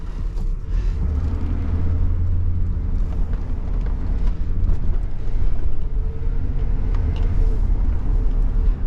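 A 2014 GMC Savana 1500 conversion van pulls out and drives, its engine a steady, loud low rumble with road noise heard from inside, no talk.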